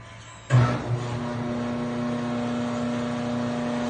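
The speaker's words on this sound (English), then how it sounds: "Pump is turning, motor's on." An old gas pump's electric motor switches on with a sudden thump, then settles into a steady, close hum with a strong low drone that holds to the end.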